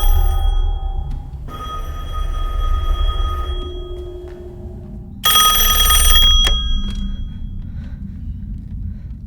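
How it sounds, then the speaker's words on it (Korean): An old disconnected telephone rings in a dark room at night, electronic bell tones sounding in separate bursts over a low rumble, loudest toward the end. "그때 연결되어 있지 않은 전화기에서 벨소리가 울려 퍼집니다."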